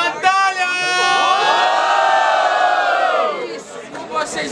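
A crowd at a student rap battle in Guarulhos, São Paulo roars with sustained loud cheering and shouting that swells and then fades, with scattered whoops.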